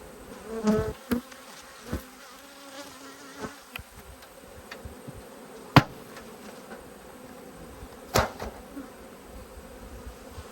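A massive number of agitated honey bees buzz in a continuous, close drone over an opened hive, broken by scattered knocks and taps from the hive boxes.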